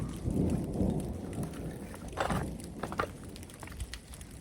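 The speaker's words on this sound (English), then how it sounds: "it's hailing, some pretty big hail balls" Rumbling thunder with heavy rain and hard pattering impacts of fairly large hail striking surfaces close by in woods, with no one speaking.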